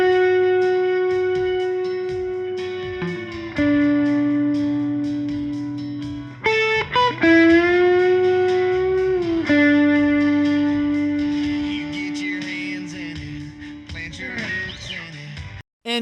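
Electric guitar playing a simple country riff, a few sustained notes with string bends and pre-bends, clean but slightly effected tone, played alone and loud.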